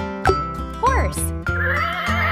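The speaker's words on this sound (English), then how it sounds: "Horse." A short cartoon horse neigh, a bright rising-and-falling whinny, sounds over cheerful kids' music, with a clip-clop-like accent near the start.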